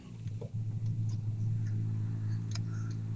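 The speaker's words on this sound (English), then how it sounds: "What's a nice sounding exhaust?" A 1991 Eagle Talon idling with its exhaust running, a low, steady engine drone with a few faint ticks and clicks on top, no talking.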